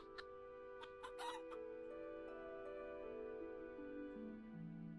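Chickens in the fantasy shop game Teddy's Haven give a few short, faint clucks early on, over a steady layer of tonal game music.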